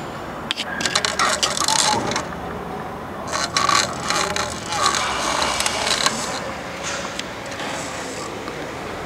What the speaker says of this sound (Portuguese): eu quero só mostrar o barulho que a correia dá ressecada